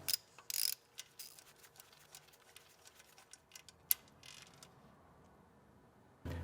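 A ratchet clicks in short, quiet bursts while loosening intake bolts on a TPI engine, with scattered metallic ticks and a few sharper clacks before a pause.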